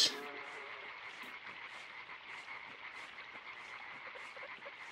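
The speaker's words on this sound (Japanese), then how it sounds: "カエルの音もする" Frogs croak in a dark, eerie stretch of the game Limbo, a steady faint chorus of repeated calls holding through the whole stretch with no talk over it.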